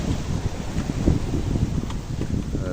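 Wind of about 20 knots blows over a sailboat at sea with short waves, a close, rough buffeting roar with low rumbling gusts against the microphone.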